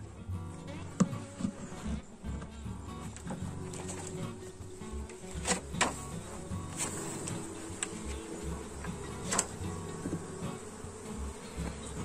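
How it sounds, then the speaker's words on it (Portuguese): A honeybee swarm buzzes loudly in a dense, continuous drone as its hive is opened, with occasional knocks and handling clatter close by. "aqui a gente vai estar abrindo esse enxame"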